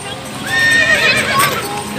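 A horse neighs with a rising and falling whinny while hooves clip-clop underneath. Voices and background noise mix in around it.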